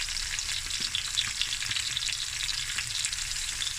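Lamb knuckle and rice sizzle and crackle loudly in a hot pan while being stirred, a busy, continuous frying hiss with scraping from the stirring and no voices.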